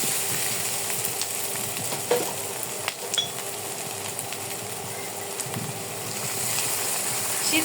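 Chicken pieces fry with garam masala powder in a pan for rolls, giving a steady close sizzle with occasional clinks and scrapes of stirring, no voices.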